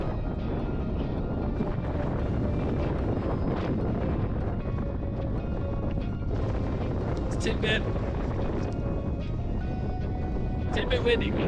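Strong wind gusts on a mountain trail in Rocky Mountain National Park buffet the microphone in a continuous loud rumbling roar, with a few sharper higher flutters near the end.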